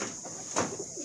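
Cooing of imported Teddy pigeons, a soft, low murmur close by that swells briefly near the middle, with a steady hiss in the background.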